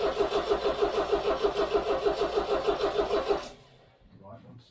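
A 1969 MGB engine cranks with the choke pulled, giving a steady rhythmic churning of the starter and engine for about three and a half seconds before cutting off abruptly, followed by faint rustling.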